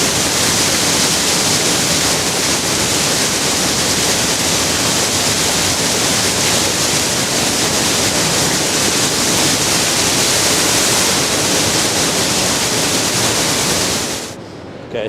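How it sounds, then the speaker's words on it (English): A waterfall roars inside a tunnel, a dense, loud, unbroken rush of water filling the space from start to finish before cutting off abruptly at the end. "you can feel the full force of that waterfall right now"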